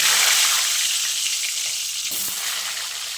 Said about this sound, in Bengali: সেই আলুগুলো দিয়ে ভেজে নেব